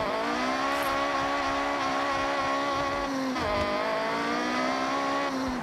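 A Honda Civic Type R in Forza Horizon revs high and holds at a loud, sustained engine whine, dipping briefly once at a gear change before climbing again.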